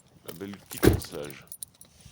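Keys jangle and a car lock clunks as a car is locked, close and brief, with a voice talking over the jingling.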